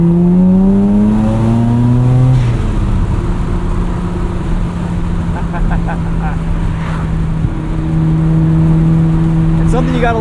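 A 1994 Mazda RX-7 rotary engine drones steadily from inside the moving car, its exhaust note rising and falling through gear changes, loud and constant with wind noise and no talking.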